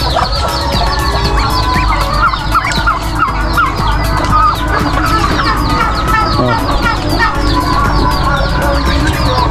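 Farm poultry in a pen, one hen brooding: dense, loud clucking and gobbling calls overlap continuously, close by and filling the whole stretch with restless chatter.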